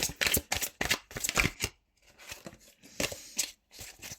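Tarot cards being shuffled and drawn, a series of quick papery riffles and flicks in uneven bursts, fairly close and moderately loud, with no talking.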